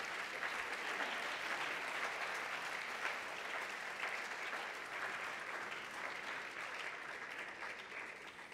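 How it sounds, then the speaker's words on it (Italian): Steady applause from an audience at an Italian talk event, a dense, even wash of clapping that continues at moderate volume without pause. "Facciamo un applauso per..."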